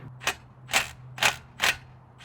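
A ratchet works loose a 12mm banjo bolt on a Subaru brake line, making four evenly spaced, sharp clicking strokes, close and crisp, with quiet between each pull.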